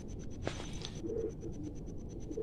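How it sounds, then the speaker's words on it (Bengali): Restless pigeons in a loft: soft coos and low murmuring rise over a steady background hum, with occasional rustles and a brief flutter, close by and continuous. "বন্ধুরা মানে খুব ছটফট করছে তো পায়রাগুলো"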